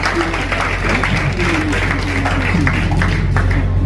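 An audience applauds a guest at a book day event, sustained steady clapping from a crowd, loud and close, with no voices over it.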